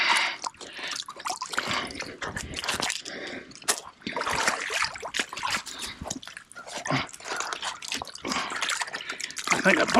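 Water splashes and drips steadily while a trap is hauled up out of the water. The wet, messy sloshing carries on throughout, and a voice sometimes breaks through it.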